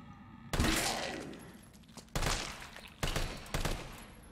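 Heavy gunfire in Resident Evil 3 Remake, four loud blasts with ringing decay, the first long and booming, the rest following in quicker succession, close and forceful.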